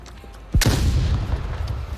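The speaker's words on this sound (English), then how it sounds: "Ooh, that flashbang definitely got Electro." A flashbang grenade detonates in the VR shooter Onward with a sudden loud, sharp blast that leaves a roaring, ringing wash trailing off over a couple of seconds.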